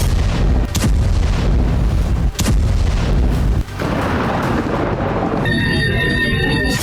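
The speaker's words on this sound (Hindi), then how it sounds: "पिछले कई घंटों से यमन पर ताबड़तोड़ फायरिंग की जा रही है" Heavy artillery fire over Yemen: dense, loud rumbling barrage with repeated booming blasts and sharp thumps, sustained throughout, followed by a rougher crackling stretch near the end.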